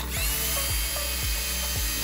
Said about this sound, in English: take your wire wheel and just go to town on it. Just get the surface rust off of it.